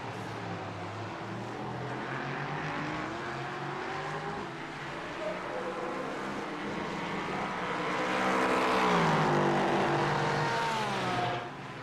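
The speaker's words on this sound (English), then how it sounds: "Ricardo Michalewski's LMP3 running straight into the rev limiter." An LMP3 prototype race car in a Spa racing game holds a droning, buzzing engine note that rises and then sits against the rev limiter near the end, fairly loud and continuous with no talk.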